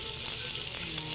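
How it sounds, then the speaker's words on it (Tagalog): Tilapia frying in hot oil, a steady dense sizzle with crackling spatter that holds level for the whole stretch, close and fairly loud with no voices. "prito-prito muna tayo ng tilapia"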